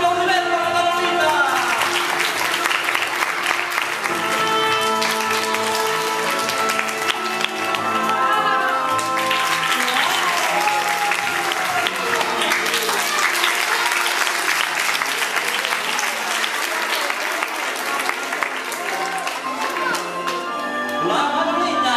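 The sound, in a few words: audience applause at a circus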